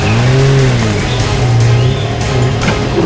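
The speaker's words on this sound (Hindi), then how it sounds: "गाड़ी की आवाज? सर नीचे से आ रही है।" A car engine accelerates in a tense chase scene, loud and close, its low tone rising and falling in swelling revs that stay steady throughout.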